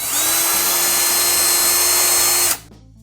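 A power drill bores out holes in a Bravo sterndrive transom assembly, whining loud and steady for about two and a half seconds close by, then stopping abruptly to near silence.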